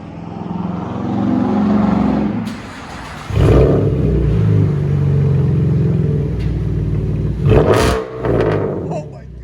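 Chevy Camaro 3.6L V6 with an aftermarket exhaust idles with a deep rumble, then gets revved hard twice, each rev a loud rising blast before settling back, with people talking over it.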